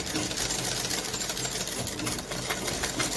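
A sewing machine stitching a kurta pocket seam runs fast and steady up close, a continuous rattling whir with rapid needle knocks and no talk.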